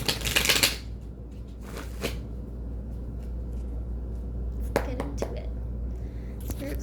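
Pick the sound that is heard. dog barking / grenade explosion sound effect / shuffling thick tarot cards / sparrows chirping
shuffling thick tarot cards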